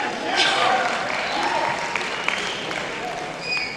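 An audience applauds and cheers at a symposium, a moderate wash of clapping that holds steady with a few brighter whoops and a swell near the end.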